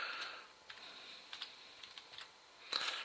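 Keys clatter on a computer keyboard while a task description is typed into time-tracking software, the light clicks coming in short irregular bursts with pauses between them, close and fairly quiet, with no talking.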